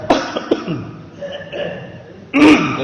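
A man coughs a few times in short bursts during a religious study gathering, with a louder, harsher cough near the end; close and fairly loud.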